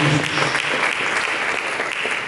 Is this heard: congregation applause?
yes